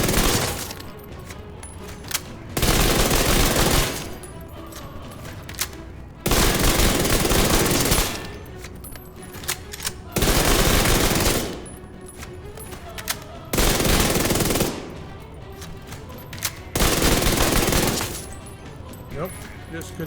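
A Vector SMG fires in the video game Division 2 as five or six long full-auto bursts, each a few seconds, loud and close, with a voice talking in the quieter gaps.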